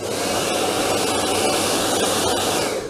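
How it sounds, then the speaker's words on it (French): A hair dryer blowing steadily at close range, a constant loud whooshing hum with no talking. "le petit sèche-cheveux les amis"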